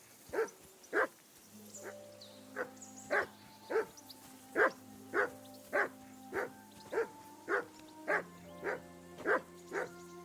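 A dog in the video game Kingdom Come: Deliverance II barks repeatedly in a steady, evenly spaced series of sharp, close barks over a low droning game music bed.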